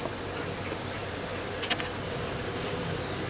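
Honeybees buzz in an open hive while a swarm is handled in Lithonia, Georgia, a continuous close droning hum with a faint brief tap partway through.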